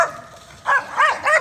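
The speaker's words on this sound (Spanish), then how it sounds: "Otra vez se le ha escapado a este perrito." A small dog that has escaped outdoors gives three quick, high yapping barks in succession, close and fairly loud after a brief quiet start.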